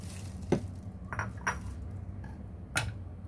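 A vegetable salad with canned kidney beans and chickpeas being mixed in a bowl, with a few sharp clinks and scrapes of a utensil against the dish over a quiet background and no talking.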